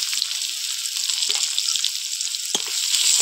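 Onion and garlic with five-spice (panch phoron) frying in hot oil give a steady, close sizzle with a few brief stirring clicks and scrapes, and no talking.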